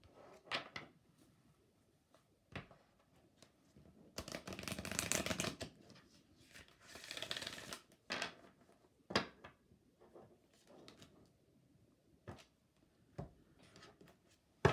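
Tarot cards being shuffled and drawn from the deck, with two bursts of riffling and scattered soft slaps and taps of cards placed on a surface, close and fairly quiet.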